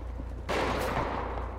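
Burst of gunfire in a GTA roleplay shootout with police, a sudden loud spray of shots starting partway in and continuing as a dense, sustained barrage to the end.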